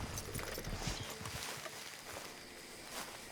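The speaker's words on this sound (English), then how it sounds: "You're just ridding your horse into me, Charles." Horse hooves clip-clop in Red Dead Redemption 2 in a quick, uneven rhythm, loudest at first and then softer, with a faint background murmur.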